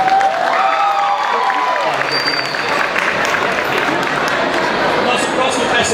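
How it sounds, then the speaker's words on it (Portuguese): An audience claps and cheers through a talk by a voice actor at a nerd pride event. The broadband applause and crowd noise run steadily for the whole stretch, with a few tonal sounds over it early on. "Palmas, galera"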